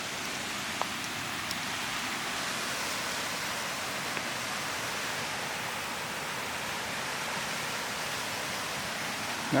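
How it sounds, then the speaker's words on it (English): Steady, even rushing of a waterfall in a gorge during rainy weather, a constant broadband wash with no breaks. "let's see if I can show you where this waterfall's at."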